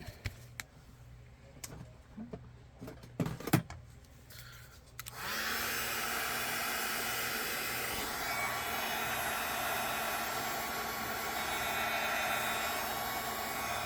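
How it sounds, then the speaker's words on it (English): A hot-air blower starts suddenly and roars steadily and loudly at close range, drying a faux leather Harry Potter sorting hat, after a few seconds of quiet handling clicks and taps. "I'm going to give it a little blast of air to just dry it just a little bit"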